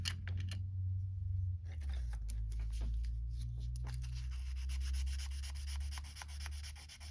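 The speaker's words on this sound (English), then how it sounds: "Give it a quick general sand" Sanding on the body of a 1969 Dodge Coronet Super Bee, a steady rubbing scrape under a heavy low hum, with a few short clicks and knocks along the way.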